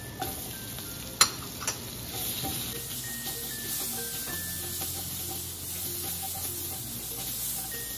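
Garlic and onion fry in the oil left from frying bangus, a steady soft sizzle with a few sharp clinks near the start, some faint tonal hums and no voices.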